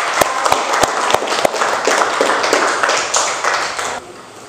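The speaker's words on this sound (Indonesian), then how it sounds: "Tepuk tangan dulu." Schoolchildren in a classroom applaud together in a short burst of lively clapping with sharp individual claps at the start, fading out after about four seconds.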